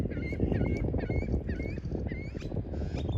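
Mud ducks call repeatedly in short nasal squawks over a heavy, steady rumble of background noise, fairly close, with no talking, at Lake Havasu City, Arizona.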